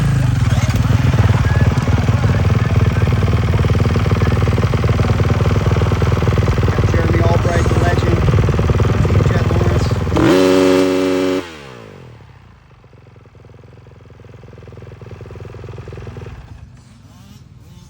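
A motocross bike at a sound check, its engine held at a loud, harsh high rev for about ten seconds before dropping sharply to a low idle. Someone talks over the idle.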